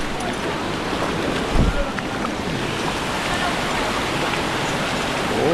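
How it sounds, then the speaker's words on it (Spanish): A 500-metre-high waterfall in Ecuador roars as steady, broadband rushing water, loud and continuous throughout, with some wind buffeting on the microphone. "es la cascada de 500 metros de altura,"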